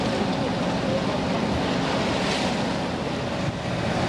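Strong wind of about 24 knots and breaking waves around a sailing yacht in the Mediterranean off Sicily, heard as a dense, steady roar of rushing air and water with wind buffeting the microphone.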